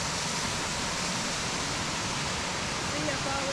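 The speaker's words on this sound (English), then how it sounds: "waterfall right there." Waterfall beside a bush track on Rarotonga, a steady broadband rush of falling water that stays constant and fairly loud throughout with no breaks.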